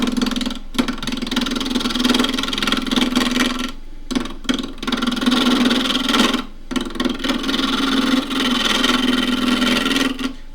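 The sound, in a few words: wood lathe roughing box elder burl with spindle gouge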